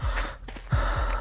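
Heavy breathing after a chase in a game, a couple of sharp gasping breaths in and out close by, with low rumbling underneath.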